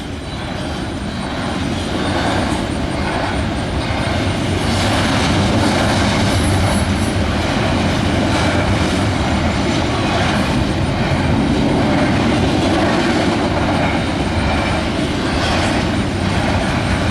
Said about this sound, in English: It's a big train.